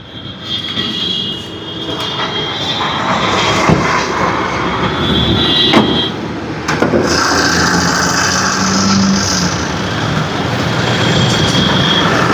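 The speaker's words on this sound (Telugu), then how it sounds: "ఇంజన్ అయితే స్టార్ట్ అయితే చేస్తా ఉన్నాం" The engine of a 2017 Tata Hexa XTA runs after starting with a loud, close, continuous roar and rumble, holding steady with a few clunks and small shifts in tone throughout.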